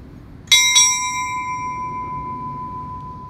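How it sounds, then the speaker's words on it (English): A remembrance bell is struck twice in quick succession at a 9/11 memorial ceremony, two bright clear strikes followed by a long sustained ringing tone that fades slowly, with no voices. "Strike two bells"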